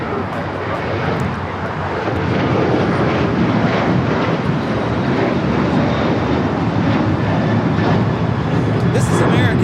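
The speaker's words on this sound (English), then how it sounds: "This is American Airlines 1292 taking off to Nashville on the 737-800." An American Airlines Boeing 737-800 roars down the runway on takeoff at Los Angeles International Airport, a loud sustained jet engine rumble that builds and holds steady, with a voice talking faintly over it.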